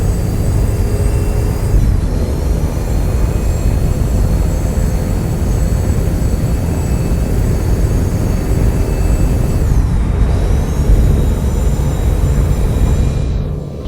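A truck engine drones loud and steady up through its gears toward eighth, with two clear shift dips where the high whine drops and climbs again.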